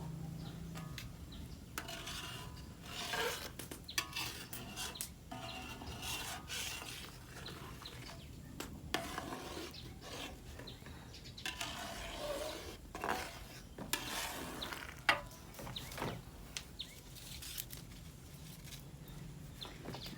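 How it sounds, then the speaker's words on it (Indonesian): Homemade coconut oil stirred in a pan over a wood-fired stove: quiet, irregular scraping and rubbing strokes over a soft continuous crackle, with no talking. "Sesekali diaduk juga."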